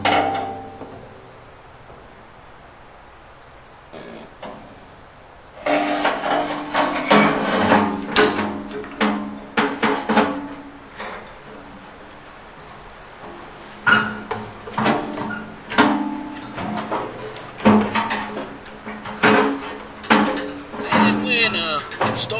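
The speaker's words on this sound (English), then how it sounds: "now we're going to slide the burners in here and the assembly all together" Knocks, scrapes and metal clunks as a burner assembly is slid into a Bradford White 40-gallon gas water heater, starting after a quiet opening and continuing in close, irregular bursts.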